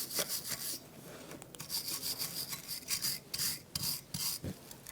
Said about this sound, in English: we are going to clean this up with our wire brush